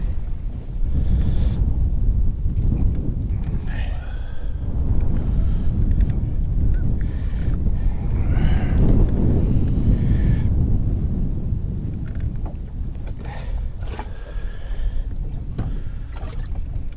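Strong wind buffets a small fishing boat on open water, a continuous rushing gusty roar against the microphone that swells and eases without pause.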